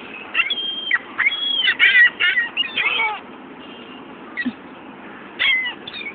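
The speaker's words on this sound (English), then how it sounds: "Come on, seagull." Seagulls calling near a parked car, a run of sharp squawking cries in bursts with pauses between, fairly close and loud, no talk during the calls.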